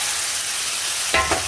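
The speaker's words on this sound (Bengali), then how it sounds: "দেখো মশলা দিয়ে তেল ছেড়ে ছেড়ে আসছে" Spice masala cooking down in oil for a fish curry sizzles steadily and close. Near the end come two short, louder bursts of stirring or scraping in the pan, and no one speaks.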